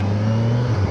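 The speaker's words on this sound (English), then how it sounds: "Oh, I think I spun my tires." A 2021 Kawasaki Versys 1000 motorcycle accelerates with a brief, loud, close engine note and a slight dip as the tires spin, heard alone.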